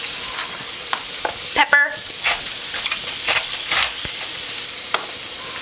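Fiddleheads fry in brown butter over high heat with a steady, loud sizzle and crackle, while a spoon occasionally stirs the pan and a voice briefly speaks over it.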